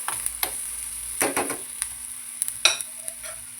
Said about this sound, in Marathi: त्यामध्ये हा टोमॅटो ना कट केलेला तो याच्यामध्ये ॲड करते। त्याला जो याच्यामध्ये तुपामध्ये शिजून देते।